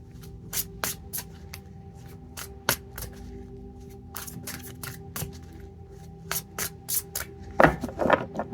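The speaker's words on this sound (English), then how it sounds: "We're going to pull 3 tarot cards, you guys." Tarot cards shuffled and pulled by hand, a string of crisp riffling and snapping card strokes at an uneven rhythm, close and fairly loud, with a busier rustle near the end and no talking.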